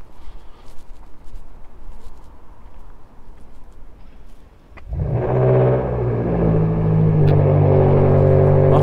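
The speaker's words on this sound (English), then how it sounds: "Some engine on that car, innit?" Outside Everton's Bramley Moore stadium construction site at night, quiet rustling ambience gives way to a car engine suddenly roaring up nearby, a loud sustained revving rumble that holds to the end.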